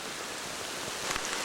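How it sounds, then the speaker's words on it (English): Heavy rain pours steadily outdoors along the Apalachee River, a dense, even hiss of downpour that fills the whole clip with a slight surge near the end and no voices. "just wanted to show you it is pouring."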